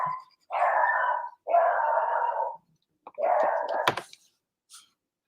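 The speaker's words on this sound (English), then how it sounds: "dogs barking" Dogs barking indoors at home, loud and close, in three long drawn-out bursts that stretch toward howling wails, with a short sharper yip near the end and quiet gaps between.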